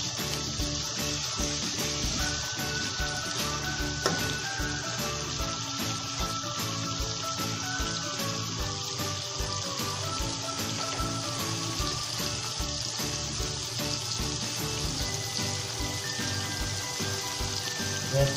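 Steady, dense sizzling of ginger garlic paste frying in a pan while cooking khichuri, a continuous crackling hiss with no pauses, close and fairly loud throughout.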